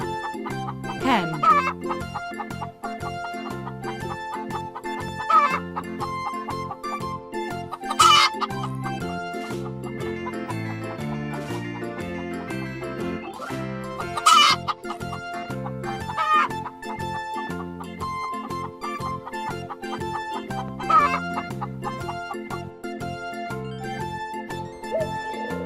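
Hen clucking among farm birds, repeated clucks and occasional louder calls over a steady musical backing, with brief sharp peaks every few seconds.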